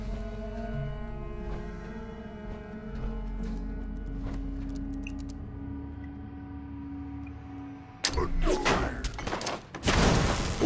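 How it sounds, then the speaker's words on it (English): A grenade blast in Fallout 4 hits at about the eight-second mark: a sudden loud thump with a broad roar and crackle. A second burst of debris noise follows near the end, over a low hum of game ambience. "Let's throw a post grenade down there."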